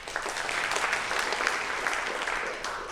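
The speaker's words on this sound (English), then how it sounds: "Clap if it's your first Sunday here since Holy Humor's been going on" A church congregation claps steadily at a Sunday chapel service, a dense, moderately loud patter of many hands sustained throughout with no voices on top.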